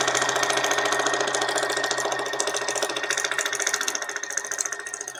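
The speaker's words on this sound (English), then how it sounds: "then I'm just going to continue to sew again. So I'm going to go fast to get myself to the end" A sewing machine stitches paper without thread, running fast in a dense, even rattle of rapid needle strokes that stays steady and close, tapering slightly toward the end.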